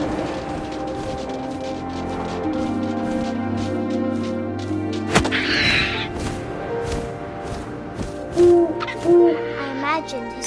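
An owl hooting in the video game What Remains of Edith Finch, two soft low hoots near the end over wind, rustling and a sustained musical drone, with a sharp crack midway.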